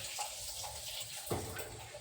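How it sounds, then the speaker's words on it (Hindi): Fenugreek leaves being rinsed in water for an aloo methi dish, a steady close splashing and swishing with a brief louder slosh near the end. "2 पानी से हम मेथी को धुलेंगे।"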